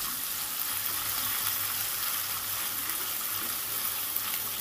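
Potatoes and onions fry in a pan for a Bengali poha pulao while being stirred, giving a steady, moderate sizzle with soft scraping underneath.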